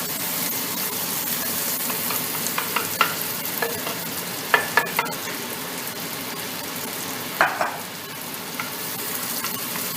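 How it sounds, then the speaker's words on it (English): Onions fry down in a greasy pan beside pork chops, a steady sizzle broken by sharp clicks and scrapes of stirring, several sharp knocks mid-way, close by and without talk. "we're going to just cook these onions down a little bit to caramelize and soften up"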